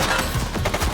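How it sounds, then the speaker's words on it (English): Gunfire in The Precinct police game comes as a quick burst of closely spaced shots, loud and dense, with a rough crackling texture and no pause. "Shots fired!"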